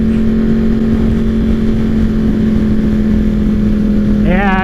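A Yamaha R1 sport motorcycle holds a steady loud engine drone at speed, then revs sharply higher near the end, with wind roar throughout.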